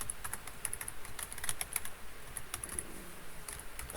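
Fingers typing on a computer keyboard while filling in an online sign-up form: steady, close, quick key clicks in uneven bursts over quiet room tone, with no talking.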